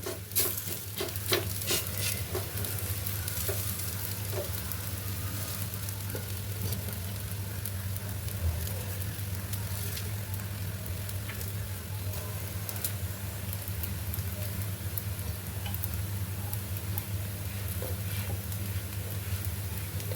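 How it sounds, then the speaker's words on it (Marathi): A square spinach and gram-flour paratha cooks on a greased pan, giving a soft steady sizzle with occasional light scraping and stirring sounds, close and continuous. "चला आता आपण पराठा भाजूया"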